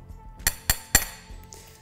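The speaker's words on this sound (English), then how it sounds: "and hammer it down into the ground." Three sharp, evenly spaced knocks ring out as a Lifetime playhouse kit anchor is hammered into the ground, each with a bright metallic edge, then a faint tap and a soft scrape follow.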